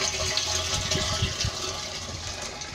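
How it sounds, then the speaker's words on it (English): Rainwater rushes and gurgles into barrels filling from the bottom in an off-grid tiny house collection system, a steady close splashing flow. "So all the barrels are filling up from the bottom"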